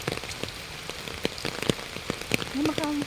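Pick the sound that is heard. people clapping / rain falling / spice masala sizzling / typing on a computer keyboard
rain falling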